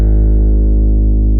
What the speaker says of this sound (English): Without any effects, my harp's bass strings sound like this.